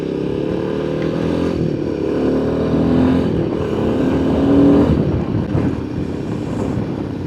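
A Royal Enfield Himalayan 450 single-cylinder adventure motorcycle with an adventure screen is ridden along a road, its engine droning steadily under loud wind buffeting on the mic, with no talk.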